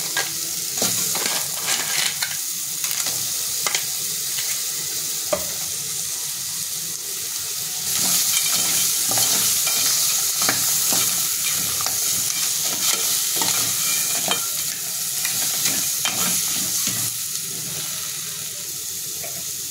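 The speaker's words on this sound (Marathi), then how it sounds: "आता ह्याच्यामध्ये आपण आंगडे टाकून घेणार आहोत आणि पेंडे." Crab pieces stirred in a pan with goda masala for a Maharashtrian crab curry: a steady frying sizzle runs throughout, broken by scraping and clattering stirs. It grows slightly louder midway and there is no talking.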